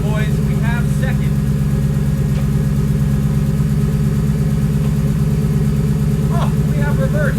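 A manual-transmission car idles steadily with a loud, constant low rumble, close by, while a few faint clunks and short squeaks sound as the gears are worked; no talk.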